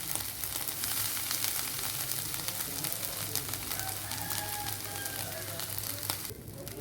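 Dried prawn shells fry in hot oil in a small kadai, making a continuous crackling sizzle at moderate level with faint background voices.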